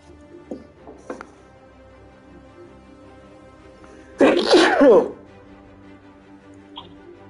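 A single loud sneeze in a Black Widow game on PS5, a short sharp burst standing out clearly over a quiet game background.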